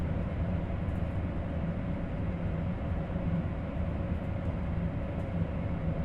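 A Shinkansen high-speed train running at speed in Train Sim World 3: a steady, loud, dense rumbling roar with constant low drone and rushing noise, unbroken throughout, with no talking.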